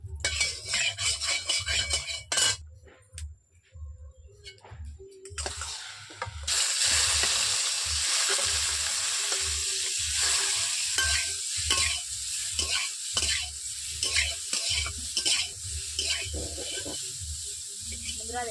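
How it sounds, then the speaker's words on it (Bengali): Cauliflower florets fry in oil in a wok with a loud, steady hiss and crackle, punctuated by repeated rhythmic scraping and stirring strokes. "কপিগুলোকে ভাজার জন্য।"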